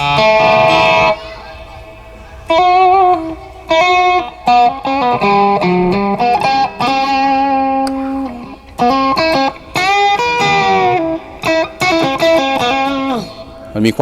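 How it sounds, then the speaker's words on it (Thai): An electric guitar played through a TANK-G amp modeler with reverb plays short chords and riffs with ringing sustain and pauses between phrases, loud and close. "รีเวิร์ขึ้นมาเลยนะฮะ เราจะลดเสียง ความกว้างของมันก็แล้วแต่นะฮะ ใส่รีเวิร์ประมาณนี้"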